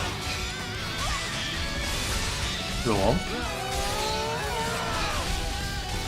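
Heavy smash impact from a party member's attack in the Xenoblade Chronicles 3 battle, a loud crashing hit amid continuous game music and effects while someone talks over it.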